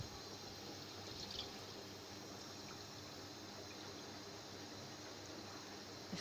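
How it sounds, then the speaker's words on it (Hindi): Water from boiled rice being drained off, a quiet steady trickle and pour running evenly throughout with no voices. "मैं चावलों का पानी निकालती हूँ।"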